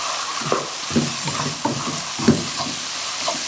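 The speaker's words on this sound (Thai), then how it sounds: "คั่วไปเรื่อยๆ นะคะ" Chicken is stir-fried in a pan with fish sauce, giving a close, steady sizzle punctuated by repeated rhythmic scrapes of a spatula against the pan.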